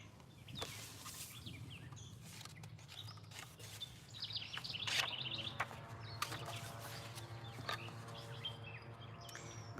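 Small birds chirp at a seed feeder with scattered high tweets and faint scratching and rubbing, quiet and somewhat distant under a low background hum.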